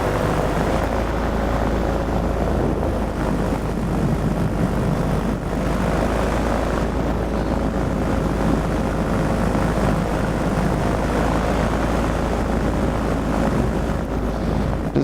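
A paramotor engine and propeller drone steadily through a cross-country flight, a loud, unbroken buzzing hum that holds constant throughout, with wind rush and no speech.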